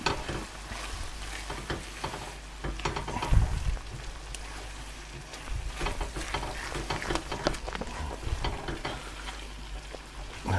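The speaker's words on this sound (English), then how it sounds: "a couple of grinds of black pepper, just mix those in" Chana saag curry of chickpeas and greens frying in a pan as ground black pepper is stirred through, with a steady soft sizzle and repeated scraping stir strokes, moderately close and without speech.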